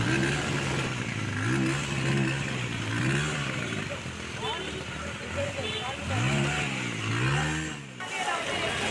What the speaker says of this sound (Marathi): बाईकवाला कशी गाडी स्टार्ट होते बाईकच स्टार्ट होत नाही